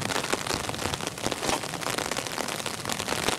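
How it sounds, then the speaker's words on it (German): Heavy rain pouring during a thunderstorm, drumming densely and steadily on surfaces nearby with a constant hiss and pattering drops. "Alter, jetzt regnet es aber wieder richtig."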